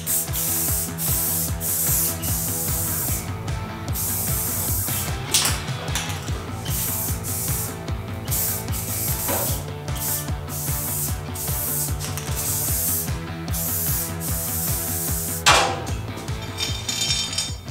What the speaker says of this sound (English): Spraying a little odd there at the end.